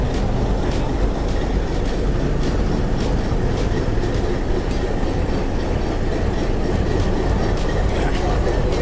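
Locomotive 8308 rolling on the rails between Rawalpindi and Attock Khurd, a loud, continuous heavy rumble with rhythmic wheel clatter close by.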